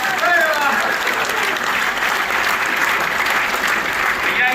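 Audience applause at a Hindu-themed poetry gathering (kavi sammelan) in Ghaziabad, loud, dense and sustained clapping from a large crowd filling the whole stretch.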